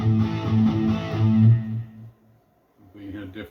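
A distorted electric guitar plays a short riff from Cinderella's "Somebody Save Me" in even groups of four, then rings out and fades before a faint pick noise.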